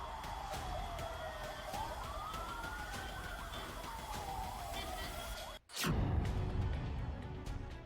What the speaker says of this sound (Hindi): डेड बॉडी लेकर एम्बुलेंस गुजर रही है